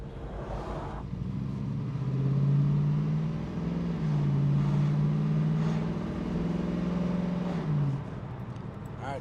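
A 1973 Pontiac Trans Am with a 455 four-barrel V8 and fuel injection, driven at speed, its low engine drone swelling under acceleration in two long pulls with a smooth shift between them, steady and close.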